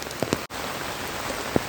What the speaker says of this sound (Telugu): వర్షంతో ఇలా నడుస్తూ అయితే చాలా అంటే చాలా బాగుంది.